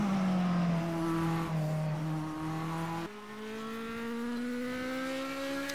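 A MetalMoro MR18 race car engine in the racing game Stock Car Extreme at Johannesburg Historic, holding high revs and rising through shifts with a sharp jump in pitch midway, no talk.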